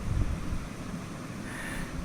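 Water from a tubewell flowing along an open channel past a V-notch weir, a steady low rushing and gurgling wash heard close and continuous, with no talking.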